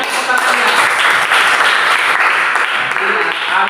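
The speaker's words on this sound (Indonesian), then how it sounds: "Kasih tepuk tangannya" Classroom applause in a school lesson, steady continuous clapping from many students at fairly close range, with voices mixed in.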